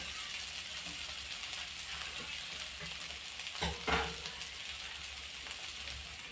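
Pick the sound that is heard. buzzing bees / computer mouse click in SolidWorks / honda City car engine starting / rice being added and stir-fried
rice being added and stir-fried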